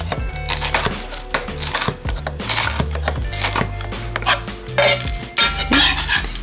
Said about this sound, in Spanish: vamos ahora a picar el tocino